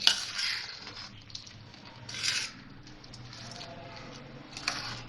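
A kalakand milk mixture being stirred in a pan, giving soft scraping and light metallic clinks of a spoon against the pan, with a few brighter bursts among quiet, steady stirring.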